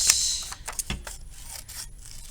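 Scissors snipping through paper while cutting out ladybug body and head shapes, a few short crisp cuts and light rustles, close and fairly quiet.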